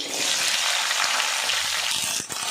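Cut potatoes and flat beans drop into a hot pan with spices, setting off a loud, dense sizzle that holds steady with a few knocks of a utensil toward the end.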